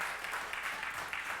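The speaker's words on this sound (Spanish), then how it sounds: "Denle un aplauso." A church congregation claps together at a Sunday service, a dense, steady wash of applause filling the short moment at moderate volume with no voices standing out.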